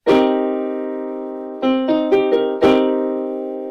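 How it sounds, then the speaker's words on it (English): A piano minor seventh chord sounds and rings, followed by its notes picked out one by one, then the whole chord is struck again and left to decay. "It's a minor 7."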